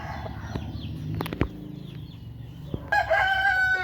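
A rooster on a chicken farm crows loudly near the end as a harmonic, drawn-out call, after scattered softer clucks, rustling and brief knocks.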